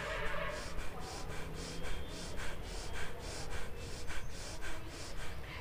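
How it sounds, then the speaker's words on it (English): Bellows breathing, a yoga pranayama exercise, runs as rapid forceful nasal breaths in an even rhythm, about three sharp puffs per second, close and steady throughout. "you can do the bellows breathing"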